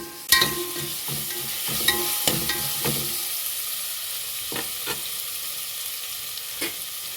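Onions frying for ghee rice in a home kitchen: a steady sizzle in the pan with repeated stirring clatters and scrapes in the first few seconds, then a few isolated knocks over the continuing fry.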